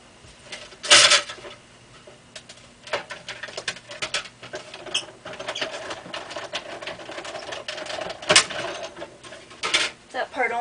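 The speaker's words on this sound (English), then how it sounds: "run it through the Cuttlebug or the Big Shot" A Cuttlebug or Big Shot embossing machine being cranked, giving scattered creaks, clicks and a few louder clunks over a faint background hum, close by with no voices.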